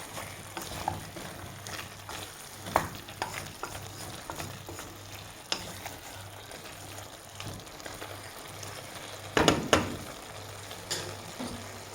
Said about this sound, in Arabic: نخليها تاني تقلى غير شويه ماشي بزاف